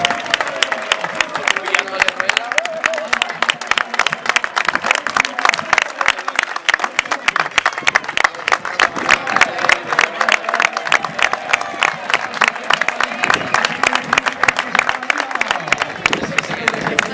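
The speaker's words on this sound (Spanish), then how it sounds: "Aplauso Valencia, que tenemos aquí con nosotros." A crowd at an international cycling race in Chelva cheers a rider with sustained, dense applause and hand-clapping, while an announcer speaks over a loudspeaker throughout.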